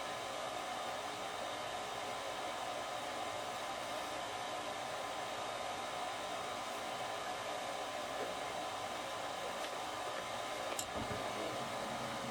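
A home furnace running just after servicing gives off a steady, even rushing roar of burner and blower, constant and close with no speech.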